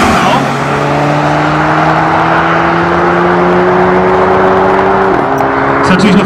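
A VW Touareg V8 and a Golf GTI race a quarter-mile drag strip at Aldenhoven, their engines a loud, sustained roar with rising tones, and a shift break near the end.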